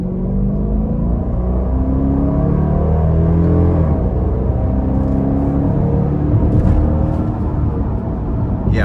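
A 2024 Dodge Durango R/T with its 5.7 V8 and aftermarket exhaust accelerates hard, a loud, continuous rising engine roar and rumble that builds steadily with throttle, close up from inside the SUV.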